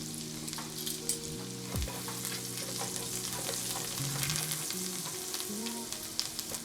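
Sage and potatoes fry in fat in a pan, a steady bright crackling sizzle with small pops throughout, close and continuous, with a low hum underneath and no talking.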